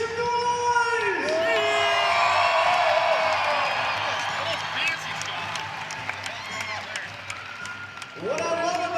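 Home crowd at a college wrestling dual between Nebraska and Utah Valley cheering, whooping and applauding in a big indoor arena, a loud sustained roar that swells and then fades, with a voice over the public address at the start and end.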